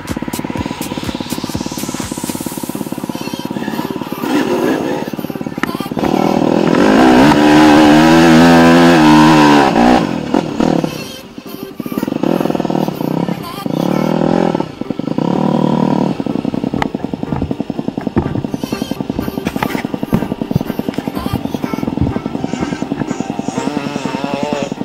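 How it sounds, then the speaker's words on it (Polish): An enduro motorcycle engine starts and revs hard at a quarry, a loud, close, buzzing roar that climbs and falls in repeated throttle blips, with a surging peak midway, then settles into a rough, steady idle. "To niech mi motor odpali."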